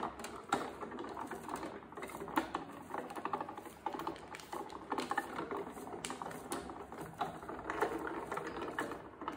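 Embossing machine pressing cardstock through a world-map embossing folder, a steady run of close mechanical clicking and ratcheting, like gears turning, continuing for several seconds with no voices.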